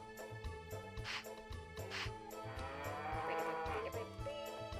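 A cow in the farming game Harvest Moon 64 gives a few short moos over a looping, plucky background melody with a steady bass pulse.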